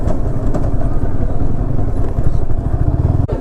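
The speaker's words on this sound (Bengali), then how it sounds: "এখন বেরিয়ে পড়েছি আমার বাইক নিয়ে" A motorcycle engine runs loud and close while being ridden through town streets in Mekhliganj during Saraswati Puja, a steady throbbing drone with slight rises and dips and a brief clatter near the end.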